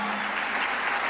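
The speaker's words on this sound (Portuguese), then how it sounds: "uma salva de palmas para ela" Dense audience applause fills the room, loud and continuous many-handed clapping with a crowd blend, briefly joined by a faint tone at the start.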